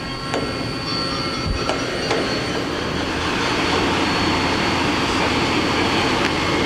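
A Mori Seiki NL3000Y CNC lathe spindle runs at speed, a steady loud machine whir and hum with high tonal whine and a few faint clicks and knocks, close and continuous, no talk.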